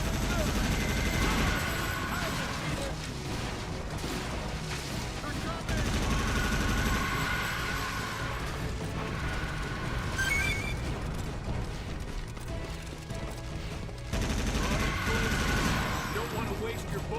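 Dense gunfire and explosions ring out in Earth Defense Force 2017, bursts of rapid shots and booms layered over constant game noise, loud and sustained, with a voice speaking at times.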